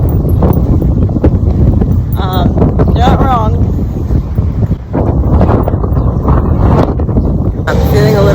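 Strong wind near Wellington, New Zealand buffets the microphone in a constant low rumble, while a person talks over it.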